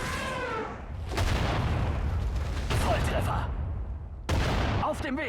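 Artillery barrages from the Sudden Strike 4 battlefield strategy game boom out in repeated heavy blasts with rumbling aftermath, a second burst landing near the end, with talk running over much of it.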